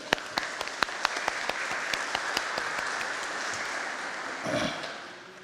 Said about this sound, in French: nous l'applaudissons et nous lui disons « Bienvenue Maëlon »